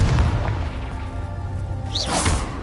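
A Confringo fire spell explodes in Hogwarts Legacy, a loud, booming burst with a rushing whoosh and a second flaring swish near the end.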